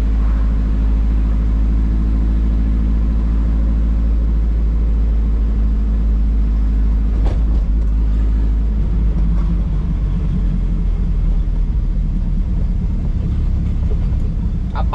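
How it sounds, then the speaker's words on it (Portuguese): A naturally aspirated Chevette's engine idles low and rough on a night drive, a loud steady rumble that shifts slightly partway through, with a brief knock in the middle. "A lenta desse carro desregula toda hora"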